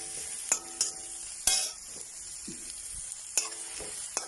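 Onions sautéing in a pan while making a soybean and green peas kurma, with a soft steady sizzle broken by several sharp spoon-stirring clinks and scrapes against the pan.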